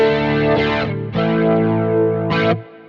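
Distorted guitar chords through a Quad Cortex flanger with the width control adjusted for stereo spread, sustained notes with a sweeping, swirling modulation that rises and falls over a few seconds, no one talking.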